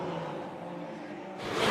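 Ferrari Challenge race cars speed past on the Valencia circuit, a steady loud engine roar that swells into a brighter rush as a car closes in near the end.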